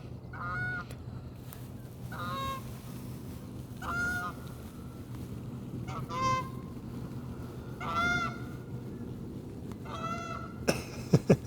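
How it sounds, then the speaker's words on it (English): Geese honking overhead near a ship lock, a series of distant honking calls repeating every couple of seconds over a steady low rumble of background noise. "you hear the geese?"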